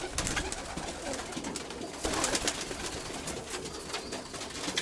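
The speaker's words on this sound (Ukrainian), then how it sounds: "Ось ось от таке голубиня." A young pigeon cooing in a loft, soft repeated coos close by over rustling and flapping noise, with no one speaking.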